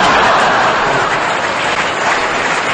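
Loud, dense audience applause fills the whole stretch without a break, a steady broadband wash of many hands clapping close by.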